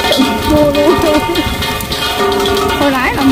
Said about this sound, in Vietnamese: Mưa tới quá trời mưa luôn.